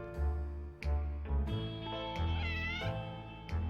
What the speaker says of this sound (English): I don't want the cat, but I think the cat might be toward another ending, so we're gonna get the cat